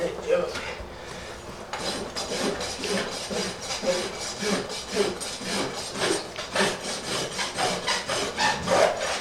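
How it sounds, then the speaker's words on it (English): A rasp files a Friesian horse's hoof in quick, rhythmic, close rasping strokes, more than a dozen in a steady back-and-forth pattern, loud and gritty, with no talking. "I took my rasp there"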